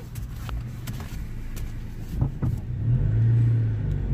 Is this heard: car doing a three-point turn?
yes